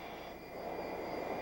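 Military jet flying past at the 1992 Commanders Day airshow at Grissom AFB, a faint, steady engine roar that swells slightly, heard at a distance.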